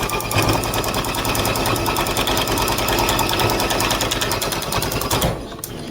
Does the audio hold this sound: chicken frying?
no